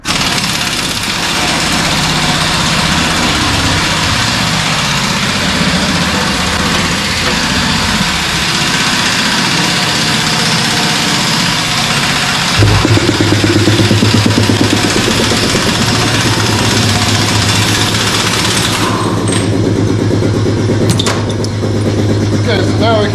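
A shop air compressor runs steadily and loudly through the whole stretch during a 2012 Chevy 4x4 front wheel hub job, its low motor drone stepping up in intensity partway through, with people talking over it.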